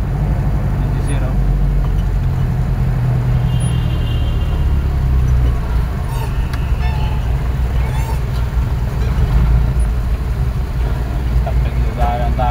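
Steady road traffic rumble surrounds a delivery truck on a busy city street near a seaside mall, a continuous low engine drone with passing vehicles and a brief air-brake hiss, voices murmuring faintly underneath.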